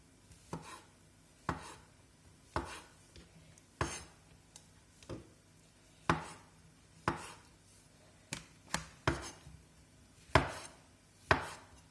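A knife chops mushrooms on a cutting board in irregular single strikes, close and crisp, with quiet pauses between cuts.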